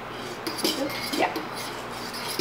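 A whisk scrapes and taps against a bowl while stirring a flan cake mixture with vanilla extract, a few light clinks and swishes close by at moderate volume, without talk.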